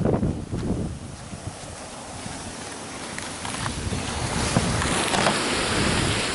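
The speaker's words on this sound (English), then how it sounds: "This wind is crazy." Strong outdoor wind roars steadily through a backyard with fig and fruit trees, a dense, loud rushing with gusty rumbles against the microphone, no voices.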